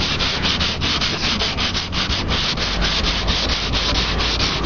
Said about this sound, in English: You want to sand it until it all turns light